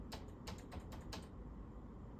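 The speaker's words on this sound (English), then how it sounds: "Your arrow keys on your keyboard will let you go frame by frame." Quick light keystrokes on a computer keyboard's arrow keys, five or six soft clicks in a brief irregular burst, close and quiet, then fading into faint room hiss with no talk.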